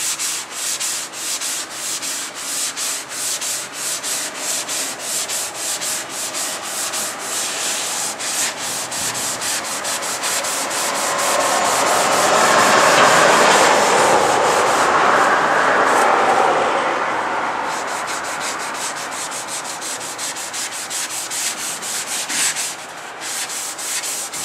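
Sandpaper scrubs steadily over a cracked seam on a fiberglass tank, the rough rasping building louder and denser midway before easing back, close and continuous with no talk.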